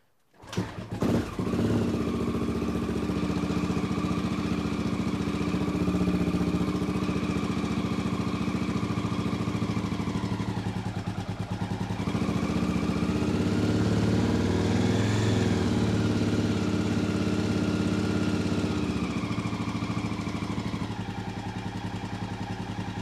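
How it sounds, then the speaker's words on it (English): Honda XL600/XR600 single-cylinder motorcycle engine starting and then idling steadily while warming up, a loud, even thumping drone with small rises in pitch and no talk. "let's quickly warm up the motorcycle first."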